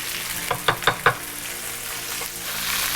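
Rib eye steaks sear in a hot pan with a steady sizzle, broken by a few sharp knocks and clatters early on.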